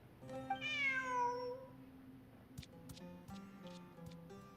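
A cat in the video game Genshin Impact gives one clear, drawn-out meow that rises and then falls, heard close and alone over a soft, steady game background with a few faint clicks afterward.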